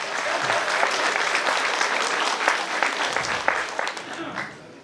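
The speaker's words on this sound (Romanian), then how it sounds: "Aplauze." Crowd at a folk festival applauding in a dense, steady burst of clapping, with some voices mixed in, tapering off near the end.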